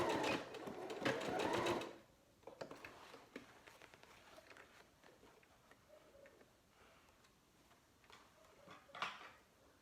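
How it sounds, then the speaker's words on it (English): A sewing machine stitches fabric for a handmade fabric basket, starting with a loud, dense burst of rapid mechanical stitching. Quieter clicks and faint handling noises follow. "I'm going to sew that quickly and then show you what it looks like"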